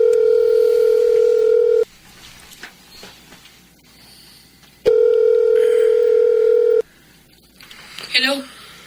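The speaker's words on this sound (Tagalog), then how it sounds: "At ngayon, tatawagan ko na si Rosella." A cellphone gives two long, steady, loud tones separated by a quieter gap with faint shuffling, then a brief burst of clicks and beeps at the end.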